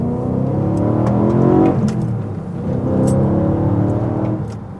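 A car fitted with Ohlins Road & Track coilovers drives steadily, its engine droning and swelling with light acceleration, close and continuous with faint clicks and rattles from the cabin.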